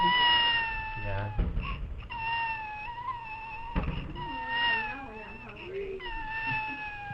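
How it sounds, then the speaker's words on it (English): A baby cries in repeated drawn-out, wavering wails with short breaks between them, high and thin enough to sound almost like a cat's mewing, heard fairly close against faint background noise. "Kid crying."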